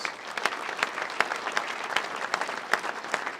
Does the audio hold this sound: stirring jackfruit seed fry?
no